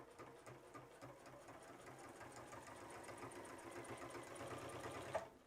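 A Juki HZL F600 sewing machine stitches through eight layers of denim with a fast, steady mechanical chatter that runs at an even pace and stops abruptly near the end.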